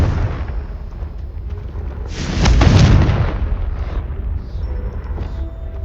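A Confringo fire spell in the game Hogwarts Legacy bursts into one loud, broad explosive boom that swells and rumbles for about a second before fading into a lingering crackle.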